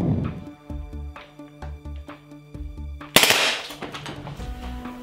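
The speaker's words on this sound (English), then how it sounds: "I'm gonna do a triple shot burst, or maybe even a little full auto." An airsoft gun fires a rapid burst of BBs at a lens protector, sharp close cracks in quick succession followed by a louder burst of impacts and rattling.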